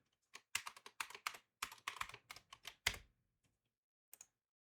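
A quick burst of keystrokes on a computer keyboard enters a password, roughly a dozen close, crisp clicks in an uneven rhythm, then silence and a final pair of taps.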